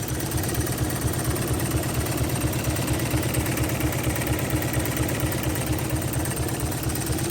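A 1985 Toyota MR2 AW11 engine idles with a steady, even pulse, and a fine rattle buzzes throughout at close range with no talking.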